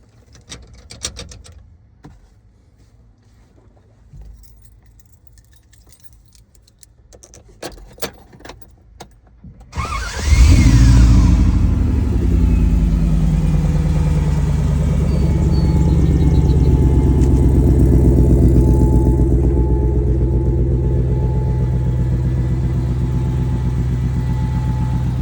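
An LS V8 swapped into a 1979 two-door Range Rover Classic cranks with rapid clicking and ticking, then fires into a loud, deep, steady rumbling idle that swells slightly as it is revved, close up.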